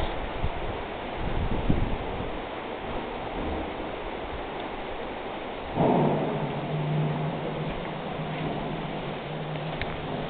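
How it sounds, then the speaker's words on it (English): Steady rain hisses throughout in Athi River, Kenya, with a low rumble swelling in partway through like distant thunder. "It is so rainy in this dry place."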